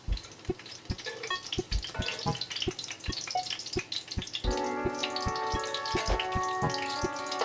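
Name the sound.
scallion pancakes frying in pan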